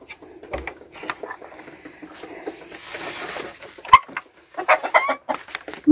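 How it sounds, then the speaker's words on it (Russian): Hens clucking and chattering in short bursts at close range, with a sharp louder squawk near the end and a few soft rustles between calls. "Курочки там барабанят."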